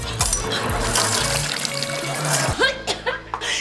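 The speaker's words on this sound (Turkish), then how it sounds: "Bol suyla yıka, bol suyla." Plenty of running water pours and splashes steadily while something is washed, with a short burst of vocal sound near the end.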